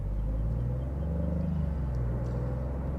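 The engine of a Maserati GranCabrio Trofeo idles at low revs, a quiet, smooth, steady rumble from inside the car that holds a low tone without rising.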